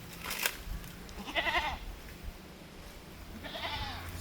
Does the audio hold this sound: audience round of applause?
no